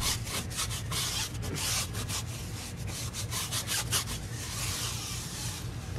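White-wall tires are scrubbed with a handheld grip scrubber and a household cleaner, making rapid rhythmic rubbing strokes that sound close and fairly loud, with no voices.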